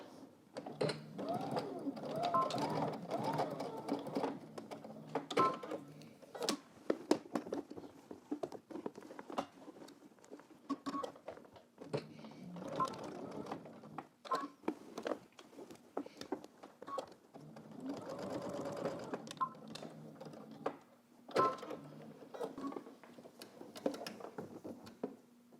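A sewing machine edge-stitches a pair of pants, its needle running in a steady rapid patter through several long bursts with short pauses between, close and moderately quiet, with no talking.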